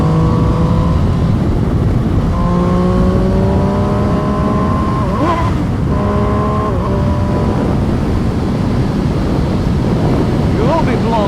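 MV Agusta Brutale Dragster RR motorcycle being ridden on an open road, its engine note rising and falling through several gear changes under constant loud wind rush at the microphone.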